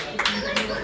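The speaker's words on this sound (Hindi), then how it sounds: "जोरदार तालियां संस्कृति के पापा के लिए" Clapping rises at a result celebration stage event as a family member is called up, with a short burst of applause heard under a host's voice.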